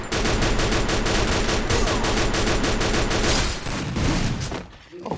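Rapid automatic gunfire in the Free Fire video game, dense sustained bursts loud and close, tapering off briefly near the end.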